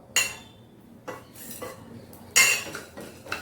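A metal spoon clinks and scrapes against a pan while pepper and fenugreek are dry-roasted for temple-style puliyogare, a few sharp metallic knocks standing out over a low steady background, with no talking.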